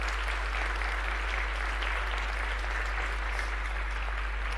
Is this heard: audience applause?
yes